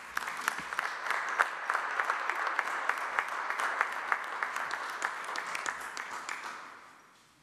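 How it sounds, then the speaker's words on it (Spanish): Sustained audience applause at a morning press conference in Mexico, a dense steady clatter of many hands heard from a distance, fading out at the end with no talking. "Despidamos a nuestras autoridades con un fuerte aplauso."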